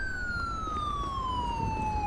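Police car siren in the video game GTA with the LSPDFR mod, a loud continuous wail tone slowly falling in pitch before rising again at the end.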